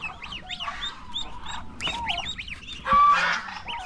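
Young poultry chicks call with repeated high, rapid chirps and peeps, joined by louder honking fowl nearby, close and busy with no talking.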